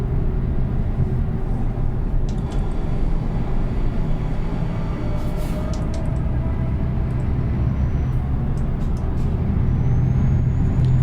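A truck in Euro Truck Simulator 2 with Promods rumbles steadily at a low pitch on the road toward Hamburg, with a few brief hisses and clicks over the drone.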